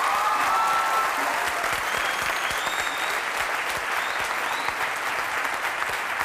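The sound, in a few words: audience applause on a TV talk show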